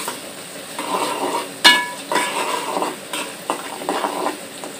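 Onions and green chilies fry in a pan for a pangas fish bhuna, giving a close sizzle with stirring scrapes and occasional utensil clinks, including one sharp clank partway through.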